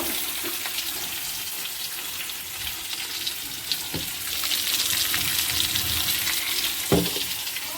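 Onions fry in a little oil with potatoes while making chicken biryani at home, a steady, close, hissing sizzle with occasional stirring clinks throughout.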